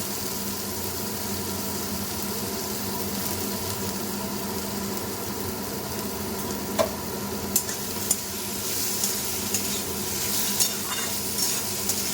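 A mashed banana-stem mixture fries in mustard oil with dried red chillies and nigella seeds, giving a continuous dense sizzle. Sharp clinks and scrapes from stirring come through in the second half, close by, with no talking.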